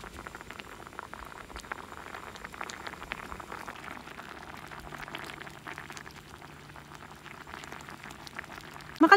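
A pan of reheated leftover viand with mushrooms simmers steadily, a soft continuous bubbling and fizzing heard close up with no voices, ending in a brief louder clatter.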